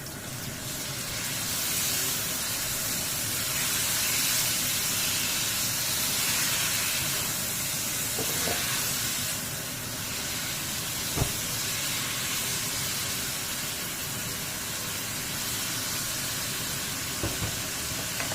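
Marinated pork ribs dropped into a hot pan for chicken feet adobo sizzle in a loud, steady hiss that holds for the full length, with a few faint clinks and no talking.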